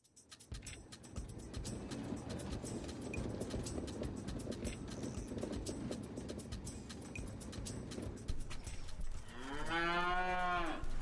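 Dairy cows on a farm give a long, loud moo near the end, following a stretch of steady farmyard ambience with scattered clicks and knocks.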